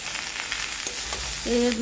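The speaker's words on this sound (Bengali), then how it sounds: "কড়াইয়ের মধ্যে আমি দিয়ে দিলাম তো সবজিগুলোকে আমি আরও একটু ভালো করে নাড়াচাড়া করে" Mixed vegetables sizzle in hot oil in a wok with a soft, continuous frying crackle and light stirring scrapes, close up and brief.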